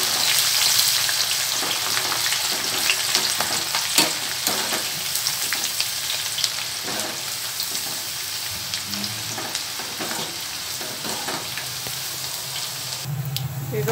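Crushed garlic frying in a pan, a constant close hiss and crackle of hot oil with soft scrapes from stirring, fairly loud and unbroken.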